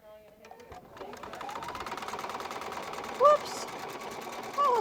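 A Viking Epic 2 sewing machine stitches in a continuous mechanical run, rising after a second into a steady close whir, with a couple of short electronic beeps near the end.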